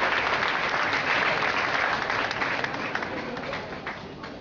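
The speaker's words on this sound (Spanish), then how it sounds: "el aplauso y un fuerte aplauso para ella" A crowd at a regional education arts showcase applauding steadily for several seconds, dense clapping that slowly fades a little toward the end.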